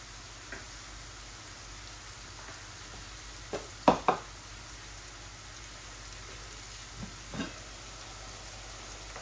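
Soft steady sizzling of lentils, including chana dal, frying in a pan, with a few sharp clinks of a utensil against the pan midway, no talking.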